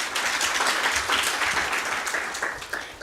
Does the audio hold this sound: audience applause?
yes